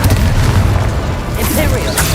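Booming Confringo explosive spell blasts from Hogwarts Legacy, heavy thuds rolling out loud and close in quick succession amid the game's other effects.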